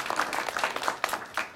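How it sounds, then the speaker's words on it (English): An audience at an academic teaching symposium gives a brief round of applause, a dense patter of many hands clapping at moderate volume for a second or two, with no voices over it. "Can you give her a round of applause again?"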